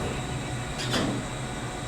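A brief whoosh and thud as sliding train doors close on a Tobu Railway one-man operation line in Tokyo, heard over a steady loud hum.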